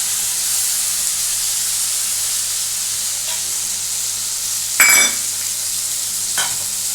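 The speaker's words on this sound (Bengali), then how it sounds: "এটাকে একটু ভালো করে ভাজবো, মশলাটাকে কষে নেবো" Spice paste sizzles steadily in a pan before fish goes in for a Bengali bok fish curry, a constant hiss broken by a brief louder stirring scrape near the end and another faint one after.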